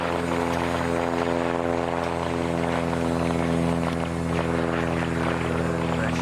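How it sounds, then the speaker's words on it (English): A Velocity home-built propeller airplane, flying at about 200 miles an hour, gives off a loud, steady droning hum with layered engine-propeller tones. The sound holds constant and close throughout. "That's a neat looking little airplane. It's called Velocity. It's a home-built airplane."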